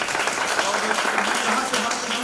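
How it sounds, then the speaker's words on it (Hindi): Steady, dense applause from a gathered crowd at a public speech event, filling the whole moment at fairly even loudness with a busy background murmur mixed in. "जोरदार तालियां।"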